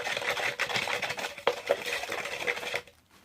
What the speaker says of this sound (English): I forgot how long it takes to stir all of this up